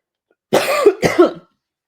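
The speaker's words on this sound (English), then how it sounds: "Hold on, because I'm going to cough." Two quick, loud coughs close up, one right after the other, followed by silence.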